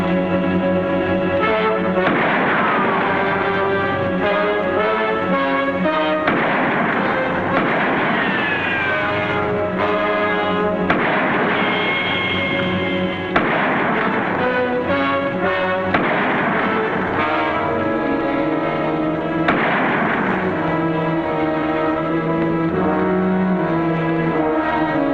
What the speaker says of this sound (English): maybe I can scare him off with a few wild shots